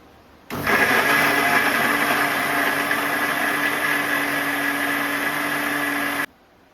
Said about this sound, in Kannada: ಮಿಕ್ಸಿ